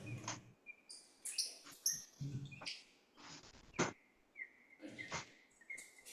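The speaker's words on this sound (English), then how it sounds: "I brought 4 bird boxes." An antique mechanical singing bird box gives off bright whistled chirps and trills in short bursts separated by pauses, with clicks and whirring from its mechanism between the calls, heard close and fairly faint.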